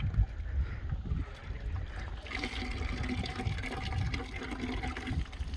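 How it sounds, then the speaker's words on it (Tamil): Hot water gushes steadily from a tap, a continuous rushing splash that runs unbroken throughout, close and fairly loud. "சுடு தண்ணி வருது, குளிச்சிடலாங்க."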